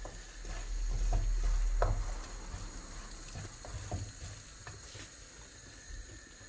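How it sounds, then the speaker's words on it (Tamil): Vindaloo masala paste sautéing in hot oil in a pan, a soft steady sizzle with scraping stirring strokes and a few sharper clinks, a louder burst of stirring early on, then settling to a quieter fry. "இப்போது விந்தாளி மசாலா நல்லா வதங்கிடுது."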